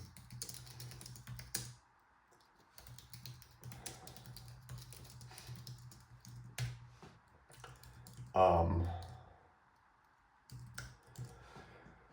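Keys clicking on a computer keyboard in quick irregular bursts, fairly close, with a steady low hum and a louder rustle or thump partway through.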